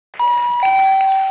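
A doorbell rings indoors with a loud, clear two-tone electronic chime, ringing on and sustaining briefly before fading, with no voices.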